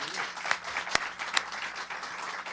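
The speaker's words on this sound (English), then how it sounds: "Give it up for Matt." Studio audience applauding for the drummer in a small televised live music show, a short steady patter of clapping with a few sharper claps standing out, fairly close and moderate in level.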